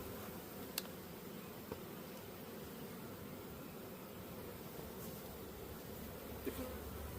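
Honey bees buzzing inside a hive, a dense continuous drone from many insects, steady and close, with a couple of faint clicks.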